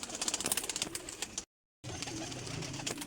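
Pigeons at a breeder's loft, including an old breeder female, with soft cooing and fluttering heard close by, broken by a brief silent gap.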